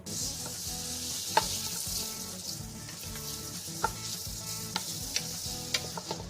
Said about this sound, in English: let's put this over medium heat and start to saute that garlic and onion